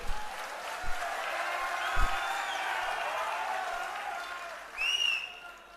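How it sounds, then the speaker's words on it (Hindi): An audience at a political speech applauds with a short, moderate burst of clapping from a crowd that swells and fades, with a few voices under it. "नहीं तो देखो ताली जदों अपने आप बजदी है उदों दिलों बजदी है"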